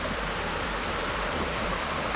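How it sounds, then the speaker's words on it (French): Waterfall in the Jura mountains with a small river nearby, a steady broadband rush of falling water, close and continuous with no voices. "le bruit de la cascade c'est tellement apaisant"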